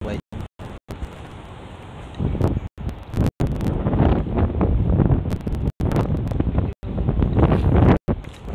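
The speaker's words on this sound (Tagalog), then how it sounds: "Nakuha mo kasi lakas ng hangin." Heavy wind buffets the microphone in loud, rumbling gusts, broken by a few abrupt dropouts.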